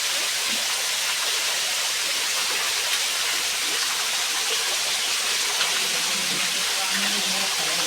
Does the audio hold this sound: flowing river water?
yes